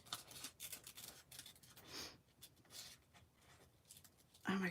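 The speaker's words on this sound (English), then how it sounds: "Look at me using fussy cutting scissors." Quiet snips and rustles of fussy cutting scissors cutting paper close by, in short irregular bursts, with a brief louder noise at the very end.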